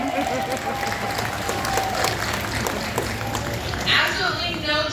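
Audience at a sea lion show breaks into sustained applause, a dense wash of clapping from a sizable crowd, with an announcer's voice carrying over it.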